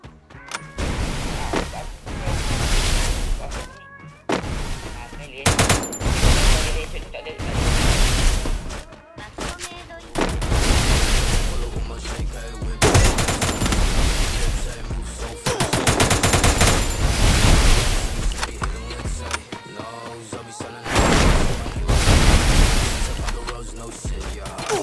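Gunfire in a mobile shooter video game, with loud bursts of rapid automatic fire broken by short gaps and continuing for most of the stretch.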